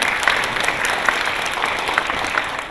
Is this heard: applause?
yes